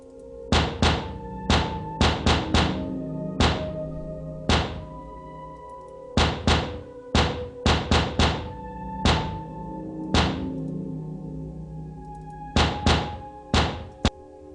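Heavy knocks on a door in a horror story, sounding as loud, close, hollow thuds in irregular clusters of two or three, repeating insistently for about fifteen seconds with no voices.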